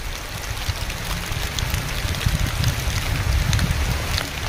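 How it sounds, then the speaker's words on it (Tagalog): Rain falls steadily outdoors, a dense hiss of drops with scattered louder patters on nearby surfaces, rising slightly in intensity, with no voices. "Umuulan na mga kabugoy."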